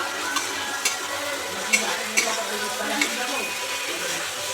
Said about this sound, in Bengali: মশলাটা কষা হয়ে গেছে